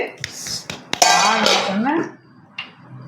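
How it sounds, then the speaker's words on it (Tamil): Metal spoon scraping and clanking against a cooking pot while mutton kothu kari is stirred, a few sharp clinks followed by a louder stretch of scraping and rattle, close by; a voice is briefly audible. "இதை கிளறி விடுறோம்"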